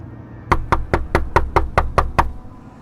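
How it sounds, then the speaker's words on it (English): Eight sharp knocks on a door in a steady, even rhythm, close and loud, with no other sound around them. "there was a knock at the door"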